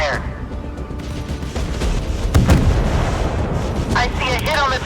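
Warship guns fire in the naval video game Force of Warships, heavy booming blasts and rumbling impacts under continuous battle noise, with a voice speaking over the action.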